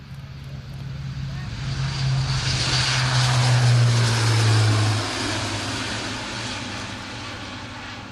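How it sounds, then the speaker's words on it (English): An Airbus A400M Atlas military transport aircraft takes off at an air show, its turboprop engines giving a loud, steady roar with a strong low drone that swells at the midpoint and then eases slightly. "He's just been cleared to take off once again."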